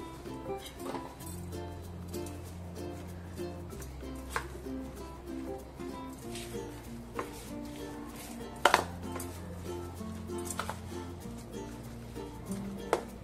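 A spoon stirs and scrapes through thick dal mixed with grated coconut and chopped coriander in a metal pot, with scattered clinks against the rim over a steady low background hum.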